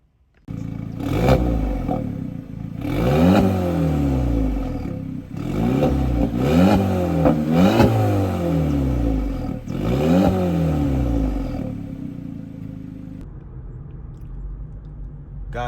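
A car engine revs repeatedly in normal drive mode, about five rising-and-falling revs close by with a whirring clatter, then settles back to idle.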